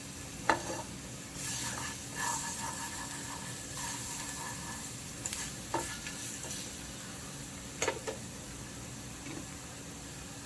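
Garlic frying in a small pan for fried rice, a soft, steady sizzle with occasional sharp clicks and scrapes of stirring, fairly quiet and without talk.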